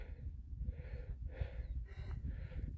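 A person breathes heavily and rhythmically after walking for an hour and forty-five minutes outdoors in Seefeld, Austria, with repeated close panting breaths over steady low wind rumble.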